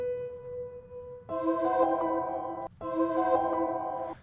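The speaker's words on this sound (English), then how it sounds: "This piano has a really nice reverb on it." Piano with heavy reverb in a trap beat-making session, a few sustained notes and chords ringing out cleanly with long tails, a short gap, then another held chord, played alone without any talk.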